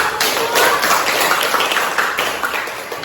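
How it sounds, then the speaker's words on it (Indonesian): A classroom group claps hands together after a presentation, a loud, close burst of many hands with distinct individual claps audible in an uneven, lively patter. "Kita tepuk tangan dulu"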